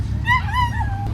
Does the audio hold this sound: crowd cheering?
no